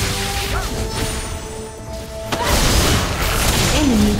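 A turret crumbling in League of Legends: Wild Rift: a heavy boom and crash that swells halfway through, with a whooshing tail over continuing game sounds and a faint announcer voice.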